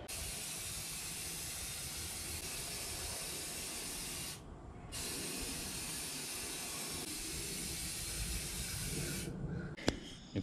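A spray can lays down a second coat of paint on a motorcycle muffler, a long steady hiss broken by one short pause and a final brief burst, close and alone.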